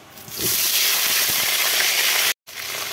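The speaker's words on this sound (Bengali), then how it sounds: "আলুগুলোকে একটু ভাজা করে নেব" Potatoes frying in hot oil after fish, for hilsa biryani, giving a loud, steady broadband sizzle that swells up within the first half second and breaks off briefly near the end.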